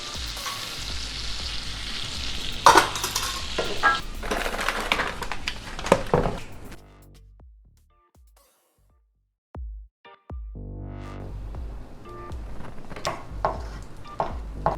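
Mustard seeds, peppercorns, cloves and cardamom sizzle and crackle in hot frying oil on a home stove, loud and close, then a near-silent pause before the sizzling resumes more softly.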